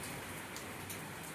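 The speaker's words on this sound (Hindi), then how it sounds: "ओले ओले देखो" Hail falls outdoors during a storm, a dense, steady patter of pellets hitting surfaces close by with no clear gaps.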